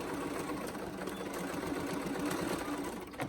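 Electric sewing machine chain piecing fabric for a pleated face mask, running in a steady continuous whir at close range with no pauses and no talking.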